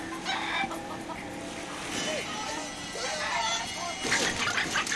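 Roosters fight in a cockfighting arena in the Sleeping Dogs video game, with repeated clucks and squawks over steady arena crowd noise while people talk.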